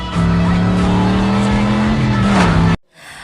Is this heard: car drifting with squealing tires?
yes